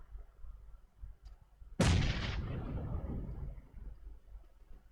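A single heavy sniper shot in the mobile battle royale game PUBG Mobile, a sudden loud crack with a long rolling echo fading out after a quiet lead-in.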